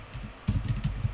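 A brief burst of quick keystrokes on a computer keyboard, close and crisp, with a short pause before a faster run of taps.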